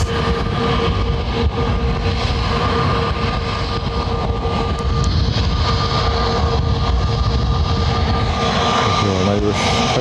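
Jet engines roar steadily at Lanzarote Airport as an airliner sits or taxis nearby, a broad sustained whine with some rumble, while people talk faintly in the background.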